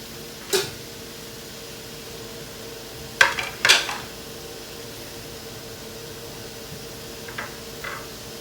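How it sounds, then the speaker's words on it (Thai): Occasional metallic clanks of pots and lids against a steady hiss of boiling steam while steaming sea bass, with a few sharp knocks spread apart. "เสร็จแล้วเราเข้าปลาลงนะครับ"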